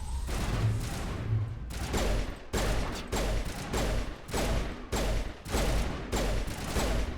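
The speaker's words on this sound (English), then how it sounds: "this gun does not have very rapid fire" Slow, heavy gunshots from a slow-firing weapon in Mass Effect, a steady series of loud booming blasts spaced under a second apart, each with a short decaying tail, running through the whole stretch.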